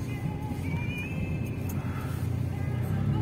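A car's engine rumbles low and steady as it creeps slowly over a frozen, rutted pothole, a continuous close drone with someone speaking Polish over it.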